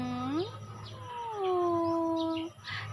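A cat from a group of abandoned cats living around a house gives a couple of drawn-out, rising and wavering meows, close and fairly clear over a low background hum.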